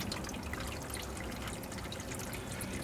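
Engine oil from a Ford 6.7L Super Duty diesel runs out of the drain into a catch pan, a steady continuous trickling pour heard close up with no talk.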